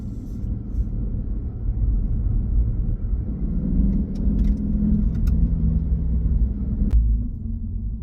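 A Lexus IS500 V8 rumbles deeply through an aftermarket Apexi N1 Extreme exhaust, a steady low growl that swells slightly midway, heard from inside with a faint jingle and one sharp click.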